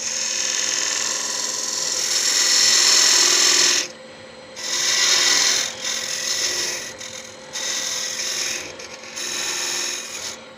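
A homemade beading tool cuts into spinning wood on a lathe, producing loud hissing, scraping bursts separated by brief pauses, with the lathe humming underneath.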